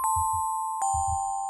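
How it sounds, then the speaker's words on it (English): Muffled music box bell tones from a software preset in a dark hip hop beat ring out in two sustained hits, each over soft thumping low kicks. "I want to add some muffled bells in the background. I went ahead and found this music box preset."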